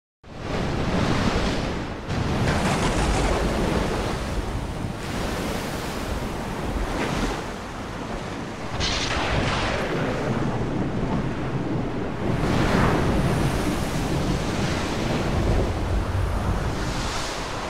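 Stormy sea waves crash and roar continuously with heavy wind noise in a shadow art performance, loud surging swells rising and falling throughout with no voices.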